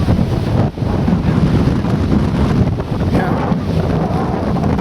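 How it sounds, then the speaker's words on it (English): Strong wind buffets the microphone in a steady, loud roar with gusty swells throughout, no voices clearly heard. "It is windy."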